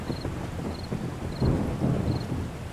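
Thunder rumbles low and heavy in a storm in the game 7 Days to Die, rolling in two swelling waves over a steady wash of rain, with faint high periodic chirps above.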